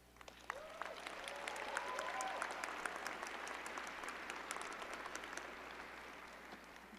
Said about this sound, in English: not just to applaud ourselves, but to applaud them in gratitude